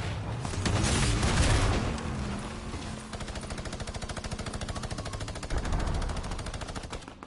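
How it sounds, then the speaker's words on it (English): Rapid automatic gunfire in Fortnite, a dense burst of loud, evenly spaced shots fired in quick succession after a heavier opening blast, with no talking. "Oh, good shooting."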